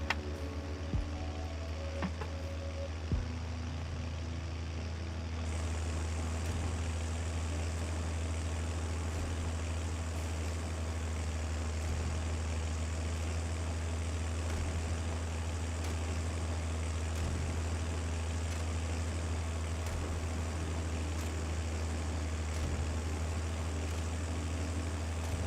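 A throaty tractor engine in Farming Simulator drones steadily at close range, a deep continuous rumble that holds loud and even throughout with no talking.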